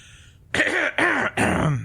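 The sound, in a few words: throat clearing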